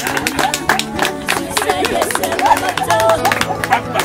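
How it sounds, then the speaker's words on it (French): An audience claps and cheers loudly and steadily throughout, with music and crowd chatter underneath, honouring a young woman's mother at a mourning-lifting ceremony. "Applaudissez encore pour elle."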